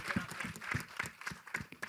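Audience clapping at the trailer launch of the film Dream Girl, a brief burst of rapid, uneven handclaps from a small crowd, fairly close, with some voices mixed in.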